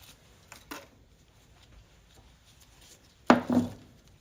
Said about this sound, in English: take my wire cutters and right about there. I'm going to cut it off.